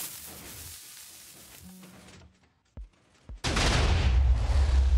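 A rail cannon fires in a video game: a few faint tones and sharp clicks, then a sudden loud, sustained explosive roar that fills the rest of the moment.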